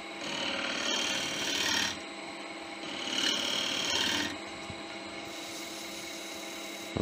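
Two long rasping passes of a side bevel cut as a woodturning tool shaves a wooden bowl spinning on a lathe, with a steady scraping rub up close. The lathe hums on between the cuts.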